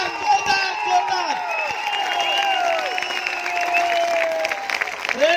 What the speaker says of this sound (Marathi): जोरदार टाळ्या जोरदार जोरदार जोरदार